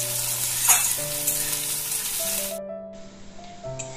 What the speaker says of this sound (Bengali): এবার আমি সোয়াবিন আর আলু বেশ ভালোভাবে একটু ভেজে নেব।